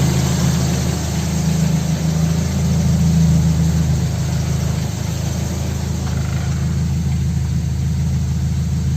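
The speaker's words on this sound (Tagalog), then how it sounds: "So hindi na nagmi-misfire yung engine natin." A Toyota Corolla with a 2E engine idles smoothly without misfiring after a condenser replacement, holding a steady, even, continuous hum close by with no voices.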